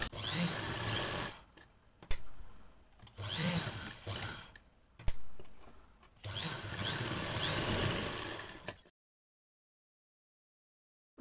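A sewing machine stitching cloth for a one-year-old baby's frock, running in three loud whirring bursts separated by short pauses, then stopping into silence.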